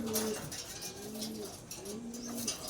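Racing pigeons coo in a series of soft, low, drawn-out calls, close to the microphone, over a steady background hum.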